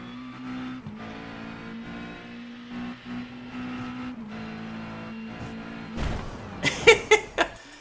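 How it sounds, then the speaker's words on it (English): LMP2 prototype race car in iRacing at Petit Le Mans, holding a steady engine drone before a burst of sharp revving and throttle blips at the end, moderately loud. "just listen to his throttle."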